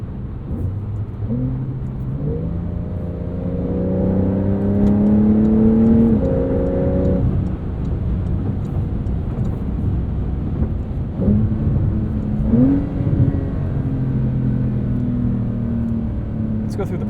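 Steady road and engine drone inside a 2022 Porsche 911 Carrera with a PDK gearbox at highway speed, a low rumbling hum filling the cabin beneath a voice talking throughout.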